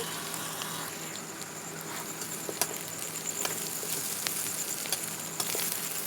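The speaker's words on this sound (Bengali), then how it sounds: "আমি ঢাকা চাপা দিয়ে এই ডালটাও আমি ভেজে নিলাম" Lentils frying in fish oil in a covered pan, a steady soft sizzle and patter running throughout with a few small pops, no voices.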